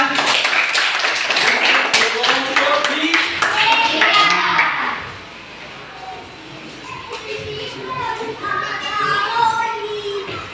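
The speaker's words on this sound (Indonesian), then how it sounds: "Ya, tepuk tangan." Classroom applause from pupils, a burst of many small hands clapping rapidly for the first few seconds, then fading into quieter room murmur and children's chatter.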